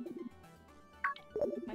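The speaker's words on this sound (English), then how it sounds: "My phone's ringing." Phone ringing in the Pokemon Shield video game: a short electronic ringtone of rising chirps over a looping low background melody, faint and brief.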